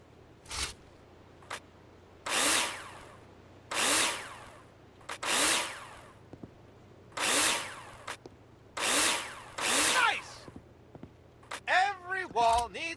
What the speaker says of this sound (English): Take your drill out and screw them in.